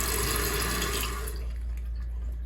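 Toilet tank refilling after a flapper repair, a loud steady hiss and rush of water that drops off noticeably partway through as the fill slows, with no voices.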